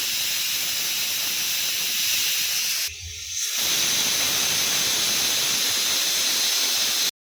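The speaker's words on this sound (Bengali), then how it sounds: "এখানে ডাল সেদ্ধ একবার সিটি হয়েছে" Loud, steady steam hiss from a pressure cooker boiling dal, filling the whole stretch with a brief dip partway through before the hiss resumes at full strength.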